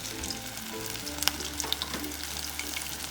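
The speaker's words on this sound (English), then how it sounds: "Intense empanada frying." Steady crackling sizzle of empanadas frying in hot oil, close and continuous, with a few sharper pops standing out.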